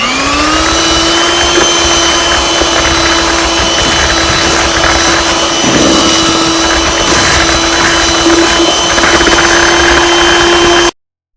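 An electric mixer whirs steadily and loudly, creaming sugar and oil for a scratch yellow cake, with a constant motor whine and grinding mechanical hum before it cuts off abruptly.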